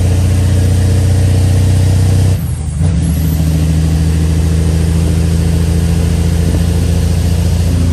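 A truck towing a snowcat on a lowboy trailer drives along the road after a blizzard, with a loud, steady, close engine drone and road rumble that dips briefly before carrying on.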